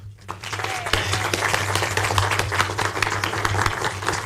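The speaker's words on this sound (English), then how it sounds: "Let us give them one more hearty clap." A conference audience on climate and higher education gives a hearty round of applause, dense clapping at steady strength over a persistent low hum from the venue's sound system.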